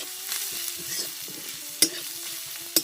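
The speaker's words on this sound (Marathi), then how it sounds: "आता हळद आणि जरा परतून घेते" Turmeric is sautéed and stirred in oil in a pan over a wood-fired village stove, giving a steady close sizzle with scraping stirs and two sharp clinks of the utensil.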